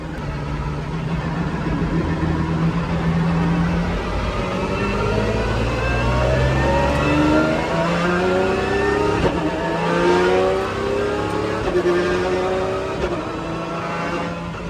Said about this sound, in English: Oh, the backfires.